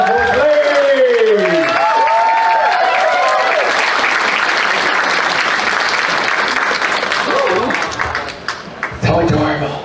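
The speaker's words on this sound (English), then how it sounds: "Round of applause for Slade!" A crowd at a furry convention dance competition applauds and cheers a performer, loud and close, with whoops and voices over the clapping and an amplified announcer talking near the end.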